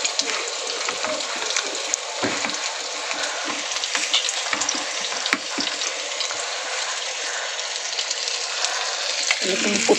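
Marinated chicken wings sizzle and crackle steadily in a hot pan, a continuous bright frying hiss with occasional stirring clatter, close and loud throughout.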